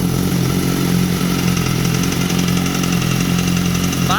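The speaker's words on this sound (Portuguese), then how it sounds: "Olha o barulho no motor." BMW S1000RR motorcycle engine with a valve noise, idling steadily up close with a continuous mechanical clatter and hum, loud and unbroken.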